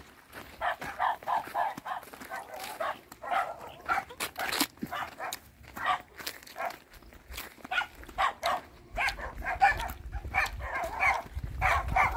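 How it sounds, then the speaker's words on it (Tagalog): Several dogs bark in short irregular bursts on a farm in Tanza, Cavite, Philippines, some close and some farther off, with occasional yips between the barks. "dami namang aso"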